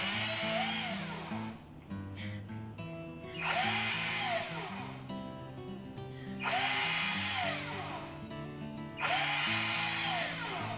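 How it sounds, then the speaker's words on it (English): A power drill whines in several loud, sustained bursts, winding up and down as it bores through a wooden shim, with faint music underneath. "So first thing we're going to do is we're going to drill through this shim."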